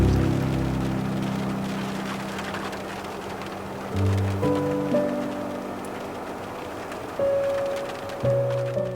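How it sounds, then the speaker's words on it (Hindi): Rain patters steadily on a car's window glass on a misty morning drive toward Ooty, a soft continuous drizzle with faint low tones rising and falling in the background. "शीशे पे बारिश के बूंदों की थिड़कन"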